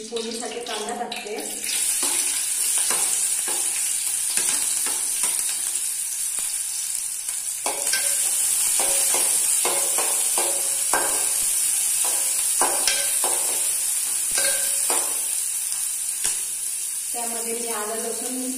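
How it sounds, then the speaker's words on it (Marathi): Onion dropped into hot oil for tempering, then frying with a steady close sizzle and scattered clinks and stirring scrapes of a spoon against the pan, moderately loud with no talking. "फोडणीसाठी कांदा टाकते।"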